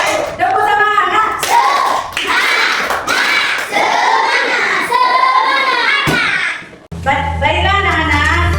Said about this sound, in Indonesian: Ayo tepuk semangat anak-anak ibu. Tepuk semangat.